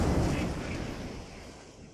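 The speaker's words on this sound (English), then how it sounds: "we're gonna be firing right here." An Erie cruiser's guns fire in World of Warships, a deep booming salvo that rolls out and slowly decays over about two seconds.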